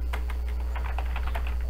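Steady run of keystrokes on a computer keyboard in Microsoft Windows, a quick irregular clatter of clicks throughout over a constant low hum, with no talking.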